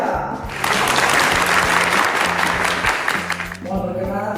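Audience applause at a formal Indonesian ceremony welcoming military chiefs of the Navy, Air Force and Army, a loud sustained burst of clapping over low musical tones, fading as a presenter's voice returns at the end.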